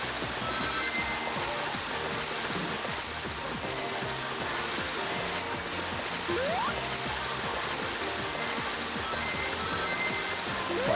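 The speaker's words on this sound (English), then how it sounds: "I don't know why the waterfall sound is so loud there" Waterfall sound effect in a Sega Saturn racing game, glitching loud: a steady, dense rushing roar of water filling the whole stretch evenly, with faint brief engine-like tones rising through it.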